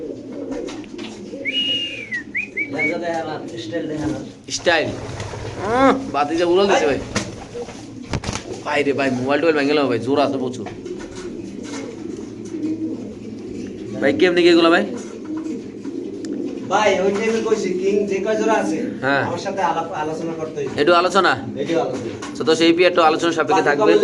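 Pigeons cooing at a pigeon market stall, repeated soft low coos and some whistled calls close by, with people talking over them throughout.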